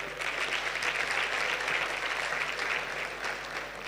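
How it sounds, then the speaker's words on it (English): Audience at a mental health session during a student success week clapping hands together, a steady dense round of applause sustained throughout at moderate loudness. "Some claps,"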